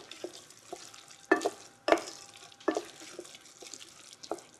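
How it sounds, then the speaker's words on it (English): Spelt porridge with raisins and coconut milk is stirred in a pot, giving several close, wet scraping and sloshing strokes in an uneven rhythm over a quiet background. "Now we're going to stir to incorporate all of this."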